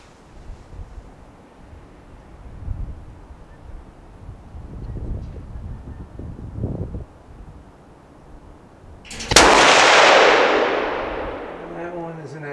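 A single loud rifle shot during off-hand shooting practice outdoors, sharp and close, followed by a long rolling echo downrange, after a stretch of wind noise.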